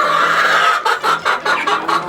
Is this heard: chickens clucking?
yes